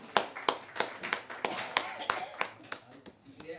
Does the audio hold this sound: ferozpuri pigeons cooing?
no